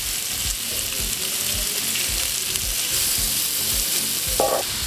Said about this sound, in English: We'll put them in and we'll let the onions cook down and caramelize.